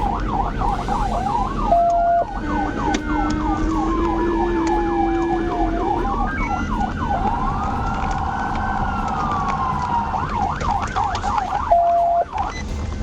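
A police car siren wails during a traffic stop, alternating rapid yelping sweeps with slower rising-and-falling wails, loud and close over road noise, broken by short steady horn-like tones.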